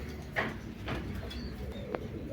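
Fancy pigeons of Pakistani bloodline coo softly nearby, giving three or four brief, low calls spaced across a quiet background.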